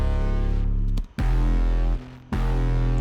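Three stacked 808 bass layers in a remix drop hit hard and sustain, with deep booming low end and harmonic overtones. The pattern is loud and continuous, with two short gaps where the bass drops out before slamming back in.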